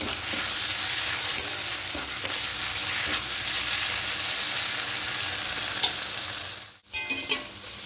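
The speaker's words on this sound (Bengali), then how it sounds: "চিনিটা দিয়ে খুব ভালো করে এভাবে কষতে থাকবো দেখুন। যতক্ষণ এটা পুরো শুকিয়ে যাবে ততক্ষণ অবধি কষতে থাকবো।" Taro stolons stir-fry with sugar in a pan, drying down with a continuous close sizzle, occasional clicks of the stirring utensil, and a brief dip near the end.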